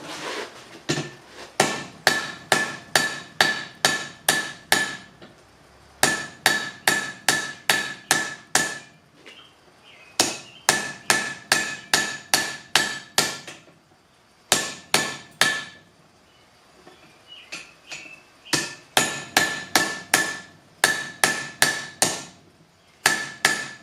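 Blacksmith's hammer forging hot metal hooks on an anvil: rapid rhythmic bursts of sharp ringing blows, several long runs separated by short pauses, loud and close with no talking.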